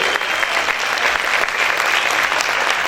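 Loud, dense applause from a church congregation at a worship service, continuous and steady from start to finish with no pause.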